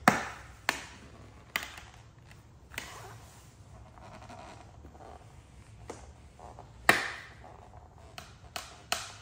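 Scattered sharp pops and crackles at close range from adhesive being pressed onto a Tesla Model Y rear window, irregularly spaced over a soft rustling background, with a few louder snaps.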